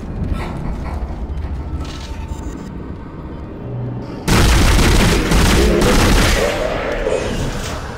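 Gunfire in the Dead Space video game: dense, loud bursts of rapid shots with heavy booms, growing much louder and fuller midway through, under a constant roar of game noise.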